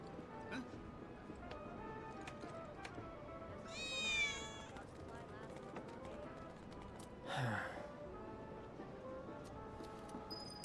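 A cat meows in Final Fantasy VII Remake, with two short high calls standing out over steady game music and ambience, one around the middle and another a few seconds later.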